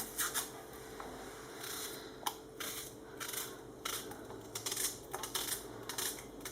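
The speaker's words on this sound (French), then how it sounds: "je vais prendre 2 oignons et je vais les couper de cette manière" Two onions being cut with a knife at close range, giving a run of quick, irregular crisp taps and crunchy slicing scrapes over a faint steady background, with no talking.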